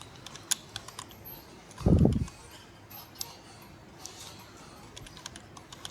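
Git commands being typed on a computer keyboard during a coding class: scattered, light keystroke clicks close by, with one heavier thump partway through against a faint background hiss.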